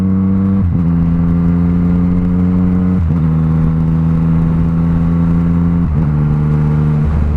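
A stock 2017 Yamaha MT-09 motorcycle revs steadily while its quickshifter clicks through upshifts, each shift a brief dip in the loud, buzzy engine note roughly every three seconds before the revs climb again.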